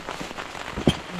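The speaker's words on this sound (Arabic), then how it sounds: "دامت تمطر مطرة مو طبيعية" Heavy rain on a camping and fishing trip, a steady dense patter on a surface with one louder drop-like hit near the end, close and continuous with no voices.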